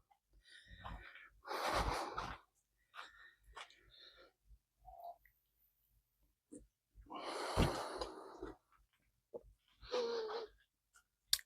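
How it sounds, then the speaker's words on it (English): Heavy breathing from a man working outdoors on a yacht, with several loud, rough exhalations and snorting breaths in irregular bursts separated by quiet pauses, close to the microphone. "Sorry for the heavy breathing"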